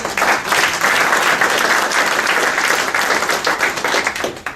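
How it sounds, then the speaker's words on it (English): A room of attendees at a mentoring program opening gives Tony a loud, dense round of applause, continuous and close, with many hands clapping together and tapering only slightly toward the end. "Big round of applause for Tony."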